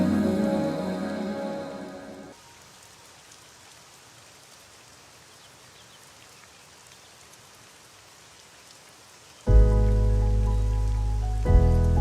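Rain falling steadily, a soft, even patter heard alone between louder stretches of music at the start and end.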